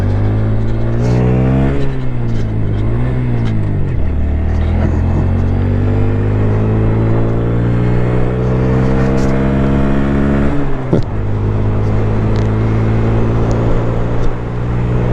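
A 2022-or-later Honda Grom's small engine revs hard through the gears during a top-speed run, pitch climbing and dropping at each shift, loud and close with wind noise throughout.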